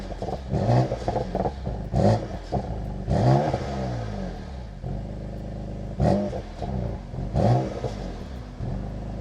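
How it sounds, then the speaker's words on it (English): A BMW M2 Competition engine starting up and revving, with repeated sharp revs that rise and fall back to a burbling idle. It is close and loud, and no one talks. "we'll start it up and show you what it sounds like on start up"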